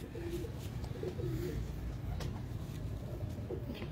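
Soft pigeon cooing from breeder and highflyer pigeons, a few low murmuring coos repeated under a steady background hum.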